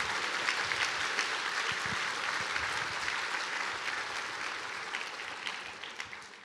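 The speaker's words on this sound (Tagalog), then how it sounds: "Palakpakan naman natin ang mga cell leaders." Church audience applauding cell group leaders, a steady dense wash of many hands clapping that carries on throughout and fades slightly at the end.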